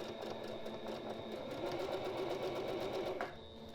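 A sewing machine runs steadily while stitching a pillowcase, a continuous mechanical whir with a fast rhythmic chatter, close and fairly loud, stopping abruptly just after three seconds.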